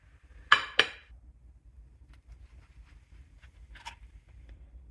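Cutlery cuts open cooked eggs on a plate, giving two sharp close clinks followed by a quieter scrape after a pause, against near silence.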